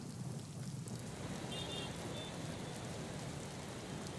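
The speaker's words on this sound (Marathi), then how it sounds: "अभिजित, नेमकी काय परिस्थिती आहे सध्या नाशिकच्या पावसाची?" Heavy monsoon rain pours over Nashik during flooding of the Godavari, a dense, steady hiss of downpour throughout with no pauses, loud and close.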